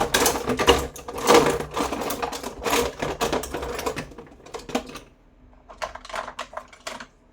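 A thin flat screwdriver works at the plastic casing of a Xiaomi Mop Pro / Viomi robot mop, making rapid, close clicking and scraping bursts that ease into sparser, quieter clicks.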